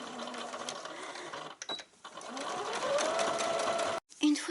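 A sewing machine stitches a 7 mm inner seam on a fabric kinshaku rice bag, running in steady bursts with a brief pause and an abrupt stop near the end, a voice talking over it.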